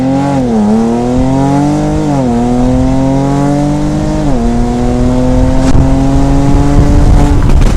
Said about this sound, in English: I'm gonna do a launch.